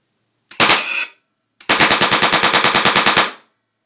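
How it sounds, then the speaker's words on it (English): An M26 LPG gas gun fires loudly up close: one short blast, a brief pause, then a rapid, evenly spaced burst of about fifteen shots, all heard alone without talk. "when the gun fires through the gas ports."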